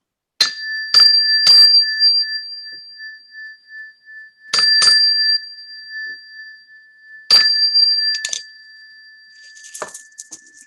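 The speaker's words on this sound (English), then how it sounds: "I think we'll give a little gong for this." A small gong struck during a meditation session rings with a steady, sustained metallic tone that hangs in the air, broken by several sharp clicks and brief noisy bursts spaced across the clip.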